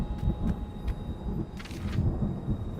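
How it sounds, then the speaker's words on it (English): Thunder and lightning ambience from the video game Stories: The Path of Destinies, a steady low rumble with a few crackling bursts, sustained throughout under the game's background sound. "The sound in the background of this game with the thunder and lightning sounds great too with the headset on"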